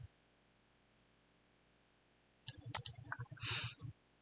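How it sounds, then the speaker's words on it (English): A computer mouse gives a sharp right-click while duplicating a design in sticker-making software, followed by a short burst of quick clicks and low knocks, close and fairly quiet against a faint room hum. "I'm going to right click and duplicate this one."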